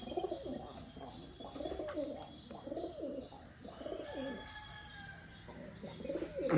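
Pigeons coo in repeated soft, throaty rolling phrases close by, with faint chirps and background hiss around them.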